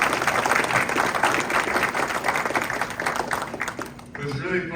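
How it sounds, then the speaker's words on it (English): A crowd claps and applauds steadily for several seconds, dense and loud throughout, fading slightly at the end. "So that definitely gets a round of applause."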